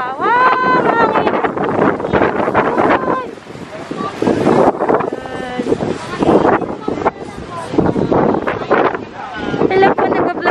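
Gusty wind buffets the microphone with a steady rumbling roar at a plant market in Tagaytay, while people talk loudly over it throughout.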